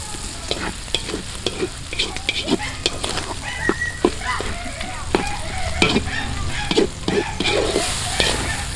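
Chopped lechon sisig frying in a pan outdoors while being mixed, a loud steady sizzle broken by frequent sharp scrapes and knocks of the spatula, with some background voices.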